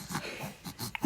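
A six-week-old baby girl with a cold breathes noisily through a stuffed-up nose, giving a few soft snuffling, wheezy snorts close by, with no talking.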